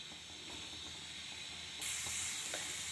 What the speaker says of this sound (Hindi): अब इसमें डालेंगे थोड़ी सी बारीक कटी हुई प्याज और इसको हल्का सा फ्राई कर लेंगे